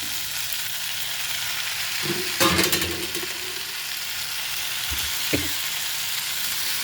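Tomatoes are tipped into radish curry frying in a pan, a steady close sizzle with a brief clatter and stirring scrape partway through.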